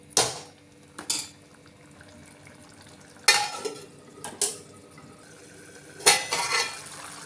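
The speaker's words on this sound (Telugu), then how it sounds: "ఇలా కూర చేసుకున్నాక ఇది కిందికి మీద ఉడుకుతుంది కదా గుబ్బ గుబ్బ" A ladle clanks and scrapes in a pot of drumstick and egg curry on the boil, in several separate bursts of stirring with quiet simmering between them.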